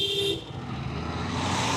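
Vehicles pass along a winding hill road at Nandi Hills near Bangalore, with a car horn sounding clearly at the start over steady engine and road noise that swells as traffic approaches.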